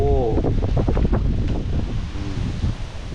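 Strong, cold morning wind sweeps through a forest, a steady roaring rush that buffets the microphone throughout while someone talks over it.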